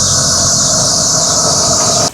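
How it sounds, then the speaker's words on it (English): A worn-out car air conditioning compressor screams loudly, a continuous high-pitched squeal over an engine drone, sustained without talk and cutting off abruptly at the end. "my aircon is completely toast and it's making a horrible screaming sound"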